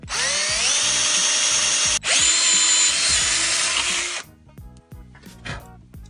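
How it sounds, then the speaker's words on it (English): A power drill drills through a hole in a saw blade, whining loudly and steadily, cutting out for a split second, then running again before stopping, leaving a few faint clicks and knocks. "You're going to take your drill and you're going to drill through that hole."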